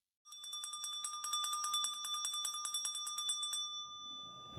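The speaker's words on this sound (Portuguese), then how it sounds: "quando esse sininho toca" A small bell rings in a rapid run of bright metallic strikes for about three and a half seconds, then the tone fades quietly away.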